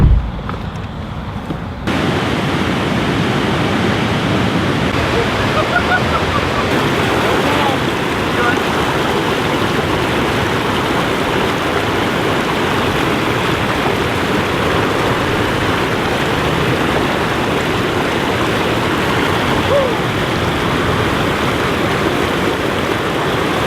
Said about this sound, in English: Camping by a waterfall.